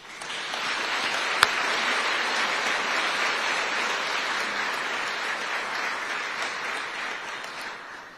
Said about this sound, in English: Please give a final round of applause for their dedication and tireless efforts.